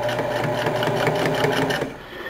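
Sewing machine running steadily while topstitching a pair of handmade pants, a close, continuous mechanical whir with fast needle chatter that slows and drops away near the end, no talking.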